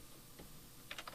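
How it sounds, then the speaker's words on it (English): Quiet keystrokes on a computer keyboard: a few soft taps, then a quick cluster of clicks near the end, with no talk. "I'll hit return on my keyboard"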